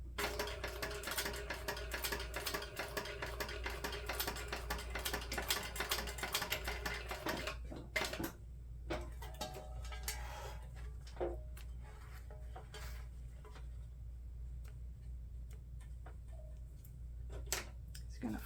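A sewing machine back stitches a zipper pocket, giving a rapid, close, mechanical rattle of needle strokes that runs continuously, then breaks into short, sparse bursts and isolated clicks.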